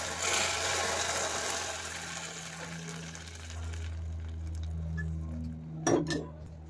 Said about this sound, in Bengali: আমি চিনিটাকে একদম গলিয়ে এবার এটাকে এর মধ্যে ঢেলে নিচ্ছিলাম পায়েসের মধ্যে